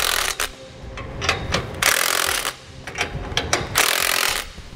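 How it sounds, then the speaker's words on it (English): A 19 mm socket tightens the nuts on a U-bolt kit for mounting a 3,500-lb round trailer axle, with loud close ratcheting and grinding bursts alternating with brief pauses. "Now we'll go through and we're evenly going to tighten down our bolts."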